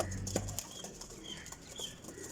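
A released pigeon, a breeder's hen, flaps its wings in a brief flurry of soft, fluttering beats over a faint outdoor background, fairly quiet and close.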